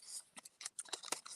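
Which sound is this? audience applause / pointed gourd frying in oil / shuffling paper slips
shuffling paper slips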